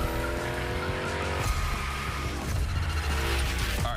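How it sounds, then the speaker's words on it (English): Hoonicorn sliding through a gymkhana course in The Crew Motorfest, engine roaring loudly while tires squeal continuously through the drift, dense and close with no pause. "Let's see how you handled your first slides with the Hoonicorn"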